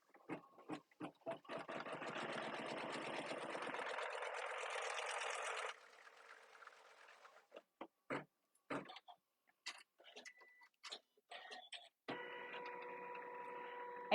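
Embroidery sewing machine stitching across a zipper pouch, a quiet steady mechanical whirr that runs in bursts and short tick-like stitches, broken by pauses and a brief higher-pitched tone near the end.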